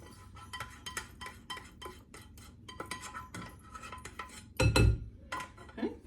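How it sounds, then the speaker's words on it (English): Melted butter mixture goes into a beer waffle batter in a bowl, with steady clinking and scraping of a utensil against the bowl, rapid stirring taps throughout and a louder clattering knock near the end. "you're gonna add the other 1/2 of the butter mixture."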